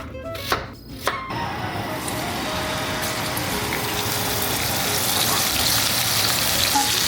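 A large T-bone steak sizzles steadily in a hot pan, a loud continuous frying hiss after a few brief knocks and clatters at the start.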